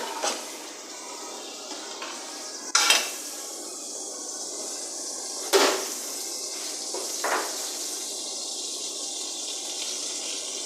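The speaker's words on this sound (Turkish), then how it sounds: "Ben de ocakta diğer tarafta ona nane ve tereyağı yakacağım" Butter melting and sizzling in a pan on the stove for a mint topping, a soft steady hiss broken by a few sharp clanks of utensil against pan.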